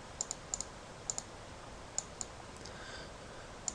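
A computer mouse clicks in home design software, a handful of light, crisp clicks spaced irregularly over quiet room tone.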